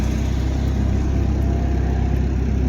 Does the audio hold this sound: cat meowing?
no